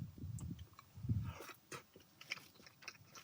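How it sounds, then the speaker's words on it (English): Someone chewing a soft Korean rice cake from tteokbokki cooked outdoors at a car campsite, with a few soft, close, moist chews and bites in short bursts, quiet overall. "I'm just gonna have the rice cake."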